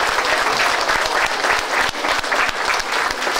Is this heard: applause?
yes